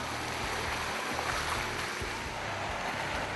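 A 4x4 vehicle fords a creek on a slushy bush track, with a constant wash of rushing, splashing water over a low engine rumble, loud and unbroken throughout.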